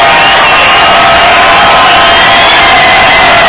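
Stadium crowd at Abilene Stadium roars loudly before a 64-yard football field goal attempt, a sustained dense cheer with whoops mixed in, unbroken from start to finish.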